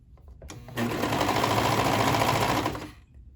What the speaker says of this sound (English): I have a bad habit of not lifting my presser foot on my serger